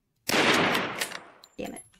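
Gunfire from the video game DUSK erupts as a loud, rapid burst of overlapping shots lasting about a second, then a shorter second burst follows after a brief gap.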